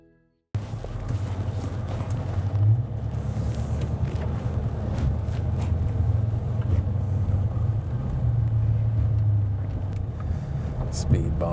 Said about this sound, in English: Speed bumps